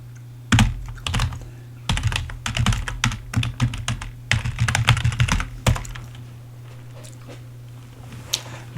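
Typing on a computer keyboard, with irregular bursts of close, crisp key clicks over a steady low hum, then a few scattered taps as the typing trails off.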